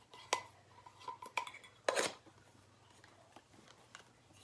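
Metal camping cutlery, a fork, spoon and small pocket stove, clinks and rattles as it is handled: a few sharp close clanks, one louder cluster of clatter midway, then quieter scattered taps.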